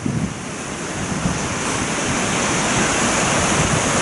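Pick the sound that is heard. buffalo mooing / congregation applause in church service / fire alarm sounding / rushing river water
rushing river water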